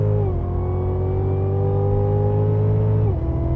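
A 2016 Cadillac CTS-V accelerates hard with a loud, steady engine roar that climbs in pitch, then drops sharply as the gear changes near the end. No voices are heard.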